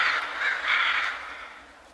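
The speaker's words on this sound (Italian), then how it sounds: "le note melodiose degli uccelli" Birds call on a cool morning, a steady bright chorus of caws and chirps that swells and fades over a couple of seconds, moderately loud with no voices.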